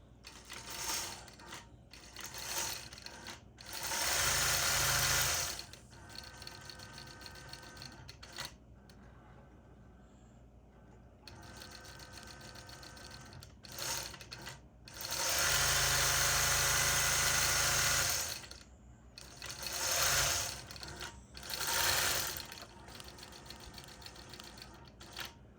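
A sewing machine stitches the binding on a quilt in repeated loud runs of fast mechanical whirring, separated by quieter pauses with small handling clicks and shuffles.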